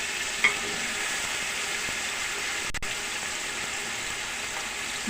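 Tomatoes sauteing in a pan with potatoes for spicy potato rice, giving a steady, even sizzle that runs throughout at moderate loudness, with a faint stir or clink near the start.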